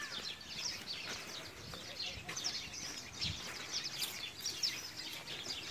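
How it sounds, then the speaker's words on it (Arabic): Birds, including a peacock, chirp and tweet in quick, scattered bursts, moderately close, under a low background hum at a zoo. "الطيور"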